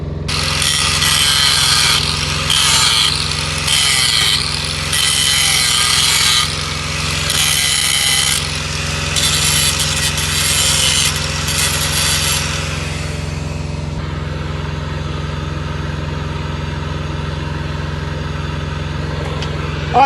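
Harsh, repeated scraping strokes as scale is worked off a stuck washer on an 18-ton Euro 6 lorry, close and loud for about twelve seconds over a steady low hum that carries on alone afterward.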